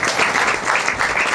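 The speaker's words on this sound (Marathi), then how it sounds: "टाळ्या वाजून त्यांचं स्वागत" Audience applause welcoming a devotee at a Guru Purnima gathering, a dense burst of clapping that holds steady for the whole moment.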